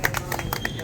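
An outdoor crowd in Ballabgarh clapping, a brief, uneven spatter of separate hand claps lasting under a second.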